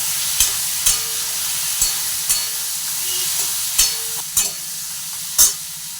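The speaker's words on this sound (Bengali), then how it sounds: "এইভাবে ভালো করে ভেজে নিতে হবে আমগুলোকে" Mango pieces frying in a pan and being stirred, a steady sizzle with recurring sharp clicks of the spoon scraping the pan every half second or so, close and fairly loud, with no voices.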